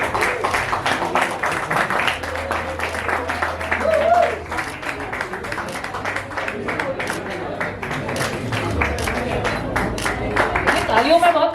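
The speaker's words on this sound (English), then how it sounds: "Can we all clap, please?" An audience at a music launch event claps in a steady patter of applause, with a voice talking over it.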